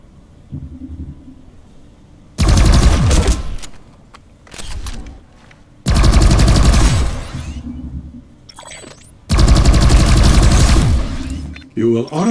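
Bursts of automatic gunfire in the shooter game Planetside 2 while aiming down sights: three long, loud, close volleys separated by quieter gaps, with someone talking in the gaps.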